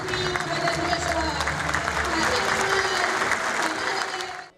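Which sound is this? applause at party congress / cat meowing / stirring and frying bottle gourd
applause at party congress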